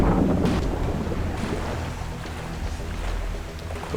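A boat in the Far Cry 3 video game rumbles along over open water, a continuous low engine drone mixed with wind and wash noise, steady throughout.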